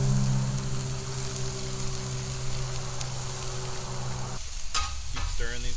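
Food frying in oil on a Blackstone griddle while being stirred, a loud, steady sizzle with a low hum, broken near the end by a few scraping strokes of a utensil on the flat top.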